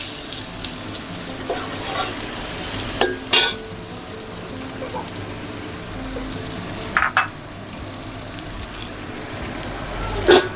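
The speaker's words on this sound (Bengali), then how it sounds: "পেঁয়াজটা একটু লাল হওয়া পর্যন্ত নাড়তে থাকবো" One and a half cups of onions fry in a pot for a Bengali-style duck curry, a steady broad hiss with a few sharp stirring clatters, close and fairly loud.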